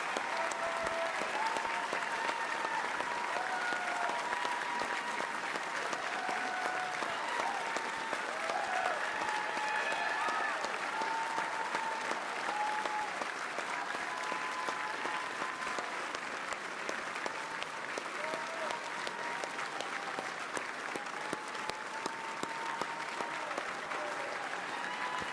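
A large audience at the B.C. NDP government swearing-in ceremony applauds and cheers for Carol James, with sustained, even clapping and scattered whoops and shouts rising over it, continuing unbroken for about twenty-five seconds at a moderate distance.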